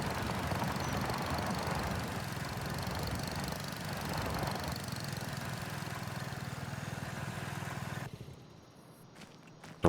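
A small lawn mower engine from the video game Farming Simulator 25 runs with a steady, buzzing putter that fades at about eight seconds, followed by near quiet and a brief knock at the end.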